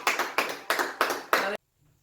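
A church congregation claps five times in a steady rhythm during an online worship service, each clap a full, roomy burst of many hands, then falls silent.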